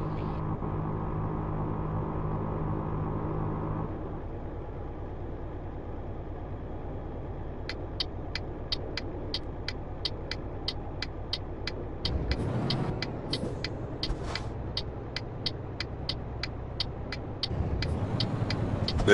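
Heavy truck in Euro Truck Simulator 2 pulling up to a gas station, its steady engine rumble dropping in pitch as it slows, then a rapid ticking indicator clicking over the running engine.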